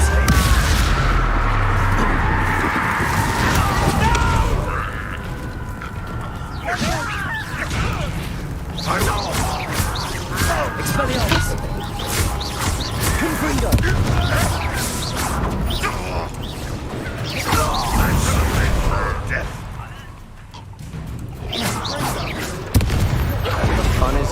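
Confringo spell explosions in the game Hogwarts Legacy, repeated fiery blasts and crashing booms layered over loud combat noise through the whole stretch, with voices talking underneath.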